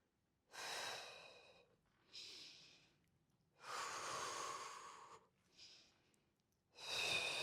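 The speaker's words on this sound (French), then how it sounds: "Vous inspirez, vous expirez, vous n'oubliez pas de respirer, c'est très important." Five slow, deep breaths during a Pilates abdominal exercise, each a close, audible rush of air in or out, separated by short quiet pauses.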